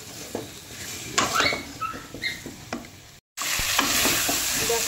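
Ginger and garlic paste with spices fries and sizzles in a pan as it is stirred, with close scraping strokes over continuous crackling, a brief cut, then louder steady sizzling.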